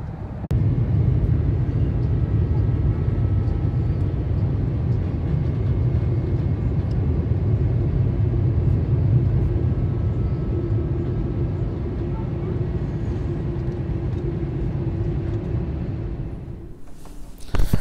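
Steady low airplane engine drone inside a cabin, loud and continuous for most of the stretch, fading and breaking up near the end.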